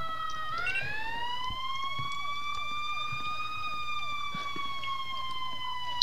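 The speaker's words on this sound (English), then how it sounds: "When people just leave their siren on" A police car siren in a video game wails continuously, its tone sweeping slowly up and down through the whole stretch at a steady, fairly loud level with no break.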